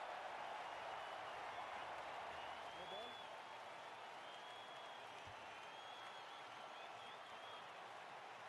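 A crowd applauds at a cricket match in the WCC3 video game. The clapping is a faint, even wash of noise that holds steady for the whole stretch.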